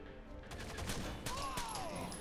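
Rapid gunfire from the video game Rainbow Six Vegas crackles in quick bursts over a low background rumble, moderately loud and close.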